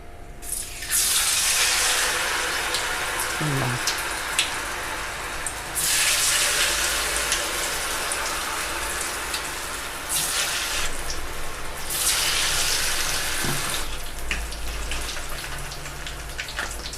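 Batter-dipped munthiri kothu balls, a Diwali sweet, fry in hot oil with a loud, steady hiss that surges in broad bursts as more go in, close and without speech.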